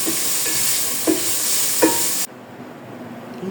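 Cooked cabbage and carrots seasoned with black pepper get stirred in a hot pan, a loud sizzling hiss broken by a few scraping strokes, then cut off to a much quieter background.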